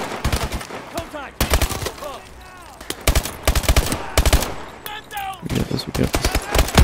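Rapid automatic gunfire bursts from Call of Duty Advanced Warfare crackle loudly and repeatedly, some long volleys and some short, with players talking in between and over the shooting.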